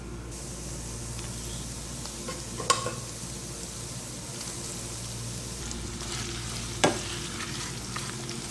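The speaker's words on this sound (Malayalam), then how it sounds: "ഇനി നമുക്കിതിലേക്ക് വേവിച്ച് വെച്ചിരിക്കുന്ന മട്ടൺ ചേർക്കാം" Cooked mutton tossed into sautéed onions in a hot pan, giving a steady loud frying hiss with two sharp spoon knocks against the pan, close up and without speech.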